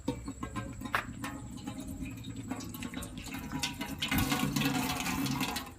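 Beer and vinegar pour into a pot for steaming blue crabs, a steady liquid splash and gurgle that swells louder toward the end, heard close with light clinks and no talking.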